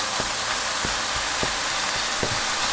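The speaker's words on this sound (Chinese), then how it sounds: "跟住咧，我哋就可以加入啲新猪肉落去炒啦。" OmniPork plant-based pork stir-fried in hot oil over medium-high heat gives a dense, constant sizzle with a few light, regularly spaced taps and clicks underneath, up close and without talking.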